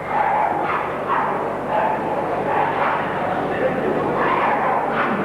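Staffordshire Bull Terriers bark at a 1985 dog show, repeated rhythmic barks from several dogs in a noisy hall, heard under a steady announcer's voice over a public address.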